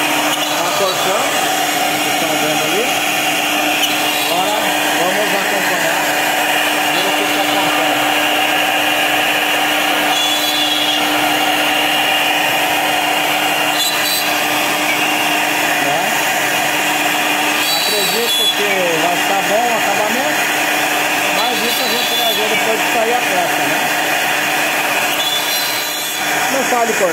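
A power saw cuts a long sheet of plywood, a continuous whining, rasping drone with shifting pitch for nearly half a minute, with someone talking over it.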